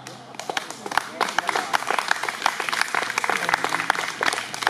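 A concert audience at an open-air lake stage applauds a concert and Schlager singer, with dense, sharp claps and scattered louder smacks rising and falling steadily throughout.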